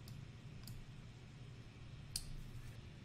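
Single sharp computer mouse click while selecting an option in a web setup screen, quiet and close, with a second faint click earlier over low room hum and no talk.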